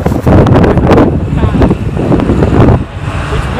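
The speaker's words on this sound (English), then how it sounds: "It's very windy out here" Strong gusts of wind buffet the microphone in loud, rumbling bursts, with faint traffic noise in the background.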